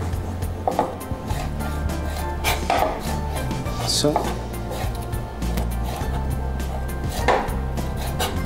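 A knife chops pieces off a red bell pepper on a cutting board, a series of irregular sharp knocks close up, with a brief spoken word and light kitchen clatter around them.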